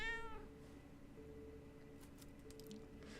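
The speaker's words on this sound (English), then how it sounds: "Ooh, hey, it's a cat." Cat meowing inside a video game, a short harmonic meow right at the start, fairly close, followed by low game ambience and faint clicks.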